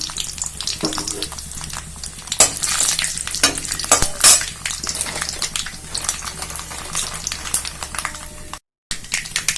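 Green chilies and mustard seeds fry in hot oil, crackling and sizzling steadily, with occasional louder pops and stirring scrapes close by.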